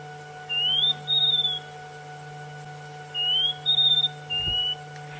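Scrub robin on a safari drive singing clear, pure whistled phrases that imitate a tracker's whistle, two short bursts of rising and level notes separated by a pause, heard over a steady low engine hum.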